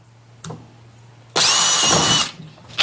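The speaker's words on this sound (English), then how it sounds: "Drill a hole right here." A power drill drilling a hole for a DIY kayak crate whirs loudly for about a second, a steady high-pitched burst that starts and stops abruptly, with a brief clack before it.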